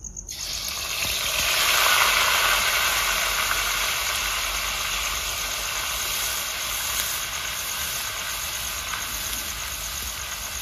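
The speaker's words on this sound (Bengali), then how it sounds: "সাদা তেল দিয়ে দিচ্ছি। বন্ধুরা আদা রসুনের পেস্ট দিয়ে দিচ্ছি।" Ginger garlic paste hits hot white oil in a kadai with an abrupt, loud hiss that settles into a steady, close sizzle, fading slightly as it continues alone.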